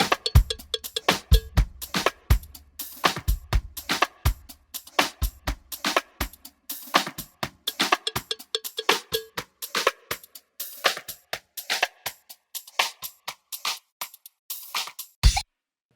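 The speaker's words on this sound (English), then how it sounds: "First one is to automate the dry wet mix" Dense drum loop run through FabFilter Volcano 3 with an automated filter cutoff, punchy hits thinning out as the low end drops away midway, a rising filtered sweep audible before the pattern ends on a final thump.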